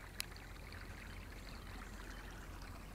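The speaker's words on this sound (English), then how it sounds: "There's another little waterfall right on my own property." A small waterfall runs through the roots of a massive tree, giving a steady, even rush of flowing water, close and constant, with one brief sharp click near the start.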